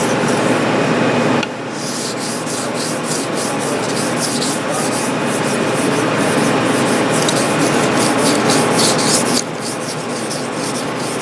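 Sushi knife sharpened on a water-soaked whetstone: a continuous, loud, smooth rubbing rasp of steel stroking back and forth across wet stone, with a brief change in texture partway through.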